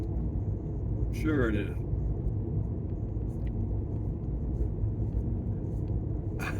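A car drives along a country road near Pine Springs, New Mexico, giving a steady low rumble that runs the whole time, with a person talking briefly over it.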